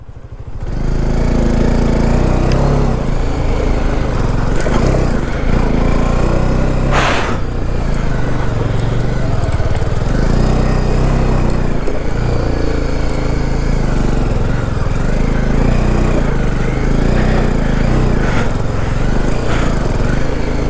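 A motorcycle engine runs loudly and continuously on a high-altitude mountain road near Gurudongmar Lake after stalling and failing to start, its strained drone steady and close.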